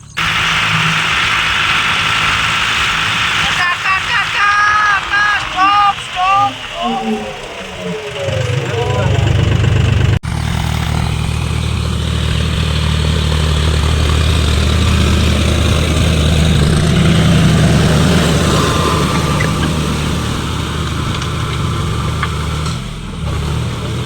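A tractor engine runs in a farm field during ploughing, a steady low drone after some whistling sweeps at the start, with voices talking over it.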